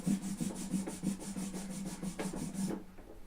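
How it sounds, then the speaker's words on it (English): A hand rubbing and sticking against the finish of a Gretsch G5022 Rancher acoustic guitar, giving soft, repeated squeaky friction strokes close up in a quiet room before fading out. "You can kind of hear your hand sticking to it"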